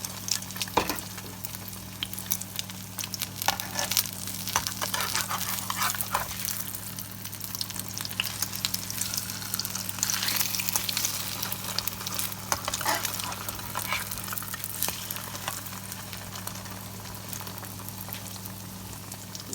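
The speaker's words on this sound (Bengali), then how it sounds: "দিয়ে আমি ভাজবো এখন সকালের নাস্তা।" A breakfast dish fries in a pan with a continuous crackling sizzle over a low steady electrical hum, with scattered spatters and no speech.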